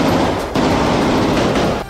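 Dense, continuous gunfire from Israeli soldiers storming a tunnel, a loud unbroken roar of shots with a brief dip midway, harsh and close with no voices.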